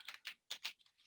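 A brief, faint run of computer keyboard keystrokes, about five soft close clicks in quick succession, with no talk.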